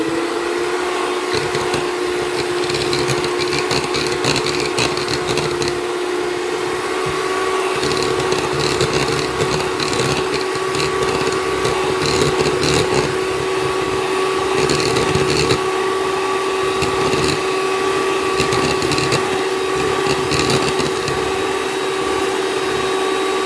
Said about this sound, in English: it's very easy for me that I'll be using the small electric hand mixer, and we're going to beat this for at least 2 minutes